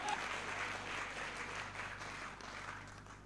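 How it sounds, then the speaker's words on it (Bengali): Faint, steady applause from an audience at a celebration event, a soft continuous patter of many hands that fades slightly by the end. "জন্য একটা করতালি হবে।"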